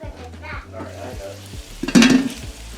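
Meatballs brown in a hot pan with a steady, close sizzle, while a utensil stirs and clinks against the pan partway through.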